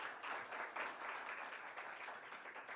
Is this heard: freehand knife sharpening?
no